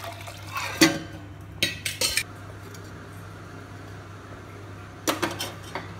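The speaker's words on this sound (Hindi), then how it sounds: "इसको निकाल देते हैं और इस पानी को इसमें डाल देते हैं।" Water poured from a metal vessel into a pot while making dahi vada, with clattering and clinking of metal utensils in short bursts and a soft liquid splash between them, over a steady low background hum.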